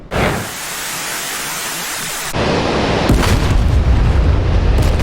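Missile launches in a war video game about a Shahed-136 kamikaze drone swarm against NATO air defenses: a loud sudden blast followed by a sustained roaring rush that swells louder midway and keeps thundering without pause.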